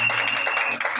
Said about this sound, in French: Acclamons pour ça.